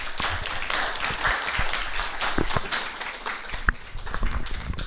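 Audience applause at the close of an academic conference on the history of the body in medicine, a dense, steady wash of many hands clapping at moderate volume, with a few sharper individual claps standing out, no voices over it.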